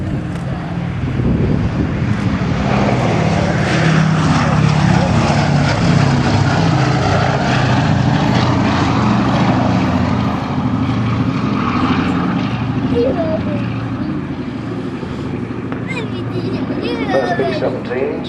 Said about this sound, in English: Flying Fortress.